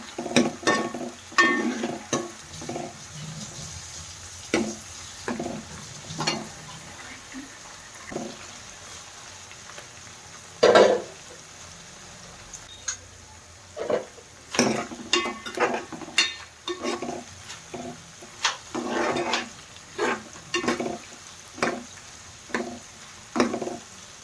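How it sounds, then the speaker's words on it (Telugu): Dried prawns and onions frying in a pan, with a soft steady sizzle broken by repeated sharp scrapes and clacks of stirring, close and fairly quiet. "ఇప్పుడు ఎండ్రాయిలు బాగా ఫ్రై అయినాయి"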